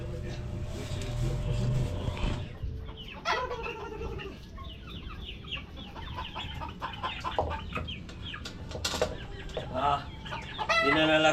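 Chickens cluck and squawk in short repeated bursts at close range, mixed with scattered clatter, while a person talks over them.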